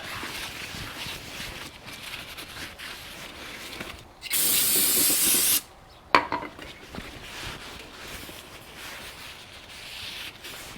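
A loud burst of brake cleaner spray on a Toyota Camry brake rotor hisses for about a second and a half, followed by a brief clatter, with quieter rubbing and shop noise around it.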